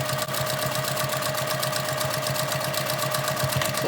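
A sewing machine runs continuously while stitching a fabric mask, a close, loud, evenly pulsing mechanical whir throughout.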